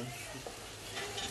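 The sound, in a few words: garlic sautéing in a pan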